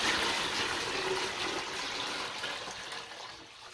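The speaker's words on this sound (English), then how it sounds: "Here comes the last of the water for the blue bucket that is strictly Kratky." Water pours steadily into a blue hydroponic bucket as the last of the fill is added for a Kratky setup, a continuous close splashing gush that eases slightly toward the end.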